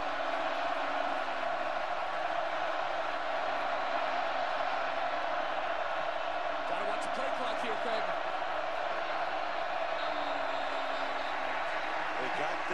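Stadium crowd roaring steadily at a college football game, Baylor at Kansas State, loud and dense throughout with a few sharp bangs and swells, a commentator's voice briefly over it.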